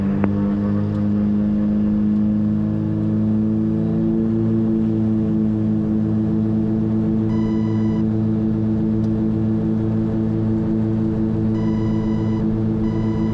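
A twin-engine airplane on its takeoff roll at full power, a loud steady drone of both engines with a constant low harmonic hum that holds evenly throughout, with no talk over it.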